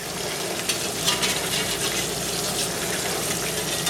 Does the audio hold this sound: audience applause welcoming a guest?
no